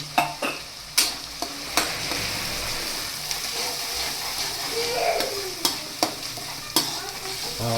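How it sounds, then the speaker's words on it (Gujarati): Ginger paste sizzles in hot oil while a spoon scrapes and clinks against the pan in irregular strokes, close and steady. "હવે એને થોડુંક સાતરવા દઈએ."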